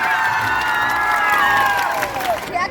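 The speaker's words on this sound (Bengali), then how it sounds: "দেবের জন্য একটা জোরদার হাততালি দেবেন।" A large crowd at an outdoor field by a market claps, cheers and whoops for film actor Dev. The roar is loud and continuous, with high shouts rising above the applause.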